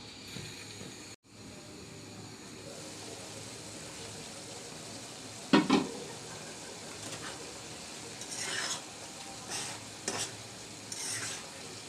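Scrambled egg with Maggi masala fries quietly in a pan. A soft steady sizzle runs underneath, broken by a few sharp scrapes and clinks of stirring against the pan.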